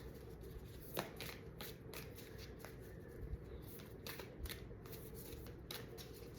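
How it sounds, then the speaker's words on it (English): Heart-shaped tarot cards are shuffled in repeated soft riffling bursts, a quiet papery flutter recurring every second or so over a low background hum. "These cards are like in the shape of a heart, so they're kind of like awkward when it comes to shuffling."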